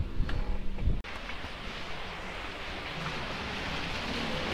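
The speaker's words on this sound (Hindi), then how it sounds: "बहुत बारिश हो रही है बाहर।" Heavy rain pours outside as a dense, even hiss, steady and continuous. Brief rumbling handling noise comes at the start before the rain settles in alone.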